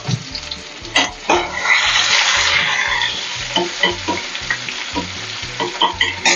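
Onions and green chillies frying in oil in a kadai, a continuous sizzle broken by regular scraping and stirring knocks from a spoon, close and loud.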